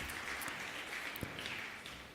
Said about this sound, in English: please, can you give a round of applause again?